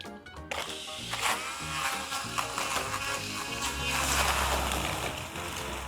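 A cordless grass trimmer struggles to start and cuts out on its protection, giving short whirring motor bursts and a clattering, uneven run at moderate volume with no talking.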